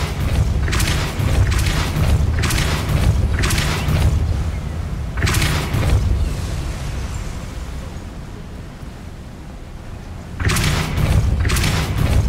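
Spell casts in Hogwarts Legacy, booming blasts repeated in bursts of several thuds, loud and close, with a quieter rumbling gap between the volleys.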